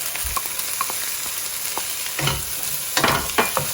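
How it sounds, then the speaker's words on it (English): Chopped red and green peppers fry on high heat in a pan, a constant close sizzle broken by scraping stirs and a few sharp clatters toward the end. "And while the peppers are cooking, I'm going to finely chop 3 tomatoes."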